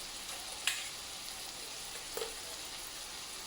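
Onions, peas and ground masala for soya pulao fry in a pan with a quiet, even sizzle, broken by two faint scraping taps of stirring.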